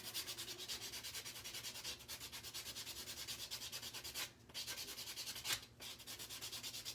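Buffing dip powder nails with a buffer, a soft rhythmic scratchy rubbing repeated in fast even strokes, close but quiet, with two brief pauses and no talking.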